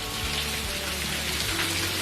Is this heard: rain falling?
yes